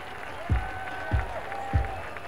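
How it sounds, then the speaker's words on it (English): A homecoming crowd at a Furman versus Mercer college football game cheers and claps as a steady roar, with three deep thumps repeating at regular intervals. "now this crowd, homecoming crowd here, is really starting to get into it"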